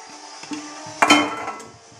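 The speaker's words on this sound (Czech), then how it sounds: "A krásně dáme přísady do hrnce." Strawberry jam ingredients going into a cooking pot: a sharp metallic clank at the pot followed by softer knocks and rattles of produce and utensils, close and without talk.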